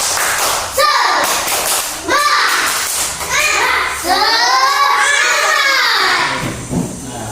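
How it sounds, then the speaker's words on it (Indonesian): A school class performs the 'tepuk semangat' spirit clap: loud, close, rhythmic group clapping in repeated patterns, with children's voices chanting along. "kita tepuk semangat dulu"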